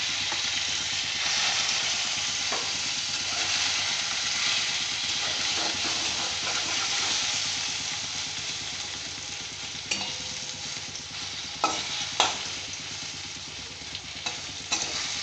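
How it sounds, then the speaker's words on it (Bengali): An egg frying in oil in a pan, a dense continuous sizzle holding steady and loud, with a few sharp clicks and taps near the end. "যে ডিমটা এইভাবে কেটে নিলাম, দিয়ে এটা একটু ভেজে নিচ্ছি।"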